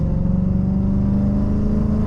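A Lexus IS F fitted with headers and a tune pulls hard in manual mode on a freeway, its engine a loud, close, continuous drone with a strong steady tone throughout.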